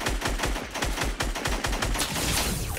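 The new light machine gun in Fortnite: Battle Royale fires a rapid, even stream of loud close shots, about a dozen bursts of rhythmic rounds running continuously.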